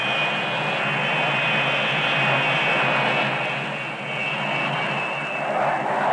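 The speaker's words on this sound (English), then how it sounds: "Bombers can be accelerated into the air from a standing start at the rate of one every 15 seconds using the ship's four catapults." Jet bombers are catapulted from an aircraft carrier's deck by a 1960s US Navy crew, one after another. A loud, steady jet roar with a thin high whine runs throughout, dipping briefly before swelling again.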